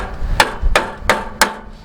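A hammer strikes an MTD lawn tractor four times in an even rhythm, each blow a sharp metallic whack, close and loud against quiet background.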